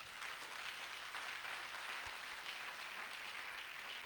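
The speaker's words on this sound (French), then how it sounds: "Est-ce qu'on peut applaudir pour le Seigneur?" A church congregation applauds together at a French-language worship service, a steady, dense wash of clapping that holds evenly throughout without pause.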